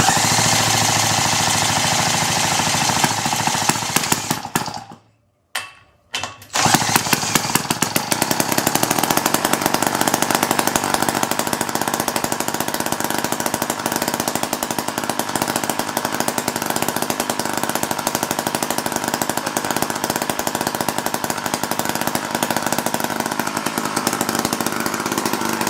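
A small engine on a propeller-powered kids go-kart runs loud and continuous with a harsh, jackhammer-like chatter, cutting out for about a second before firing up again and running steadily to the end.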